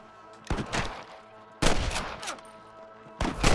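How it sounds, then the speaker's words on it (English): Gunfire in the Xbox 360 game Red Dead Redemption: three loud, sharp bursts of shots, each ringing out briefly before a short lull, with no talking. "I can hear more gunshots"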